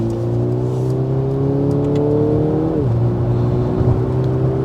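Mercedes-Benz E-Class W214 in Sport mode on the Autobahn at night, engine pulling with a rising tone heard from inside the cabin before an upshift drops the pitch, steady road roar underneath.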